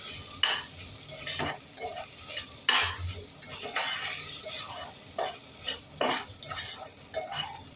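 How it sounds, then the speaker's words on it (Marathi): Rice roasting in ghee, stirred with a spoon in a pan: a soft, steady sizzle runs beneath repeated scraping strokes and light knocks of the spoon, close and clear, with no voices. "तुपावरती छान एक दोन ते तीन मिनटं परतून घ्यायचा आहे"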